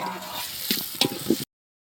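Spices or chicken sizzling in hot oil during tempering for a chicken curry at a village New Year's Eve party in Konkan, with steady close frying hiss, a few stirring clatters and bursts, and a faint voice in the background.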